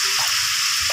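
Pork frying and bubbling in a pan for tokwa baboy, a steady, dense sizzling hiss that runs unbroken through the brief moment.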